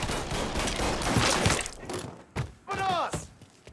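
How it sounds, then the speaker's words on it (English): Gunfire in the game Mafia 3 Definitive Edition, a dense rattling fusillade of shots with thumps and shattering, then a few sharper isolated bangs as a voice cries out. "Let's shoot some shit up."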